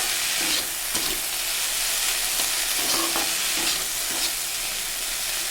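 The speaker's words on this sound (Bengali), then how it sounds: "কচুর ফুলগুলো আমি লবণ দিয়ে এটাকে এখন কষাবো" Taro flowers cooking with salt in a hot pan give off a continuous loud sizzle and hiss, with a few scraping stirs of a utensil breaking through the steady frying.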